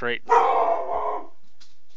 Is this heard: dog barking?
yes